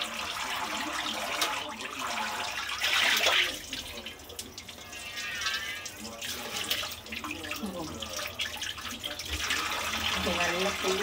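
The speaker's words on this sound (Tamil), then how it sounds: "இந்த மாதிரி ரன்னிங் வாட்டரில் இந்த மாதிரி கலச்சி விட்டு எடுத்து தண்ணி ஊற்றுறது கூட இல்லாமல் எடுத்து போடணும்." Water from a kitchen tap runs over raw chicken in a sink as it is washed, close splashing and gushing that swells and eases while a person speaks over it.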